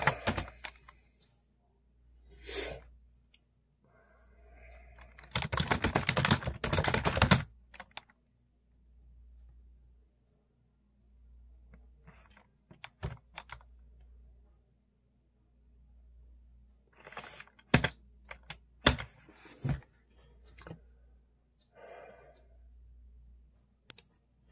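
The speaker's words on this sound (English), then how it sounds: "I'm just typing up the description for" Someone types on a computer keyboard in quiet bursts: a few taps, a dense rapid run of clicking, scattered keystrokes, then another cluster of sharp clicks with silence between.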